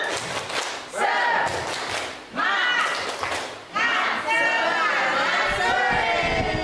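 A group of teachers and participants at an Indonesian school dissemination session performs the rhythmic 'tepuk semangat' clapping chant, with loud bursts of patterned clapping and shouted group voices in several waves.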